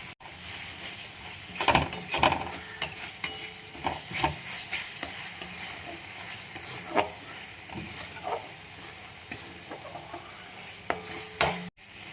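Shankar fish (stingray) with red chilli powder and spices being stirred and fried in a pan, a steady sizzle broken by repeated scraping strokes of the spatula at an uneven rhythm, close and moderately loud.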